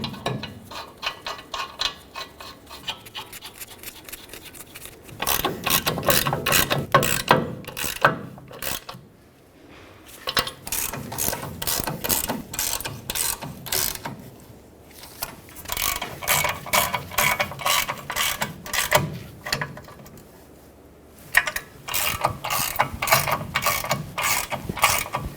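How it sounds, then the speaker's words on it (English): Long ratchet clicking rapidly as it snugs the mounting nuts on a rear backing shield of a 2011-2016 Ford F-350, close and loud, in several bursts of steady pawl clicks with brief pauses between them. "With these tightened up with my long ratchet"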